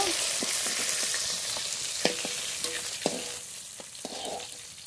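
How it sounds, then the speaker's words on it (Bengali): Pieces of fish fry in hot oil, a constant crackling sizzle at moderate level broken by a few sharp utensil clinks. "এই তেলে বাকি মাছগুলো ভেজে নেব।"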